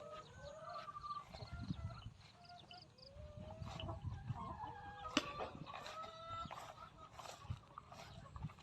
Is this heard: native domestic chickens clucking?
yes